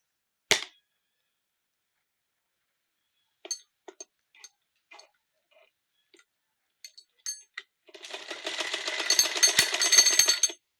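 A sewing machine stitches a folded fabric ruffle for a headband, first scattered clicks and taps, then a dense continuous mechanical rattle running fast for the last few seconds.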